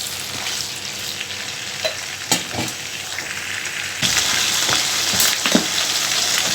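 Eggplant masala fries in a karahi over medium heat, a steady close sizzle broken by stirring scrapes and taps, growing louder and denser partway through.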